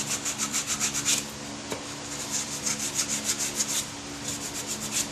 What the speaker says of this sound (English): I'm just going to come in and kind of clean up some of these scars with some sandpaper